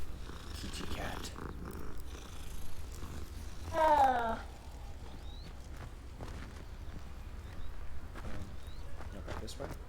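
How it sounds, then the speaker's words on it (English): A cat purring in the video game Hogwarts Legacy, a soft, steady rumble with a brief louder rise near the middle, heard under faint background ambience and quiet speech. "Kitty cat."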